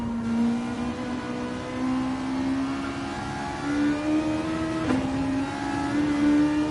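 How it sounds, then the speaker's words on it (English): A Toyota race car engine in the racing game Gran Turismo 7 holds a steady, buzzing high-revving drone, pitch stepping up through gears with brief shifts, loud and continuous with no talk. "I'm just basking in the glory of that engine noise from the Toyota."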